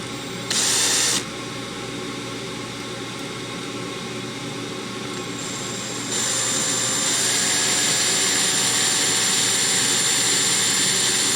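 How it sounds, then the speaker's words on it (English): A loud, continuous power drill whirs close up, with a brief sharper burst early on and the grinding growing louder partway through. "we're going to be a little careful drilling this hole through here"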